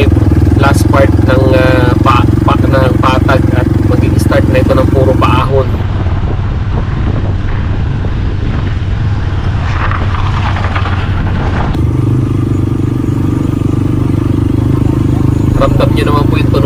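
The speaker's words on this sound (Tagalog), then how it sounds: "yung tunog ng makina ng motor na medyo hirap dahil nga po paangat" A motorcycle engine labors on an uphill climb along a rough provincial road, a continuous loud droning hum that stays close throughout, easing slightly in the middle stretch, with wind and rattling noise.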